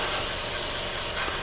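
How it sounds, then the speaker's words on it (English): An airbrush sprays gritty, speckled paint onto a 1/48 Italeri Chinook model kit, giving a continuous loud, close hiss of air and paint throughout. "we're just going to spray in, and it's horribly and speckly"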